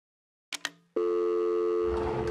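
A phone in a video game gives two quick clicks as it is picked up and dialed, then a steady, clear electronic tone hums on without a break.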